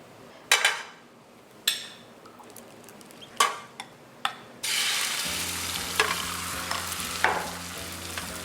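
A few sharp clinks and taps of utensils, then beaten egg poured into an oiled pan for a rolled omelette bursts into a loud, steady sizzle with occasional clatters over it.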